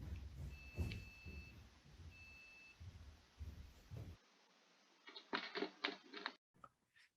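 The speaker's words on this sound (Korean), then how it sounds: "거북목 자세가 나오고 이때 거북목 알림이가 울리게 됩니다" Two short, steady electronic beeps from a wearable posture alarm sound close by, under a low background hum, followed by brief clattering noises.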